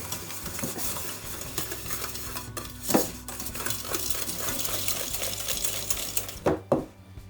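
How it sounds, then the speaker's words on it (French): A wire whisk beats egg yolk, a whole egg and caster sugar together in a bowl, giving a steady close scraping swish with occasional light metallic clinks and no voices. "A l'aide du fouet, je mélange l'ensemble."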